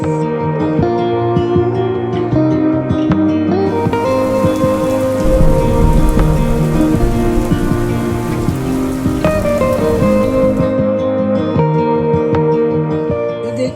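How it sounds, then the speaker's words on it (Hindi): Onion rings deep frying in hot oil give a dense, continuous sizzle and crackle throughout, heard alongside a steady tonal background. "हमें इसे गोल्डन ब्राउन होने तक फ्राई करना है"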